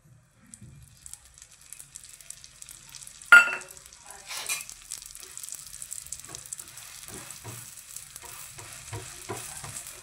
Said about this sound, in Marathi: पाव चांगले मस्तपैकी गरम करून घ्या.